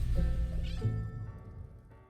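A cartoon cat in a World of Tanks loot box animation gives one clear, close meow that fades out over a soft background tone.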